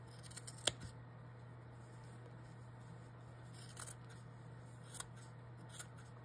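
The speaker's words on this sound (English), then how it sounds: "I'll probably trim that down a little bit now." Scissors snip quietly while fabric strips are trimmed for ruffle snippets, a few faint, scattered cuts over a steady low hum, with no talking.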